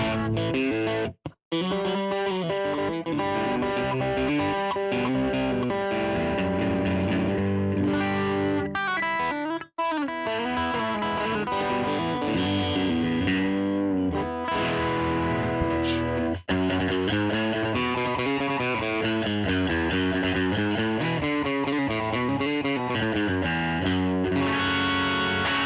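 A Squier Stratocaster electric guitar is played through heavy distortion on its combined bridge and middle pickups, with sustained chords and riffs running continuously and loudly, broken only by a few brief pauses.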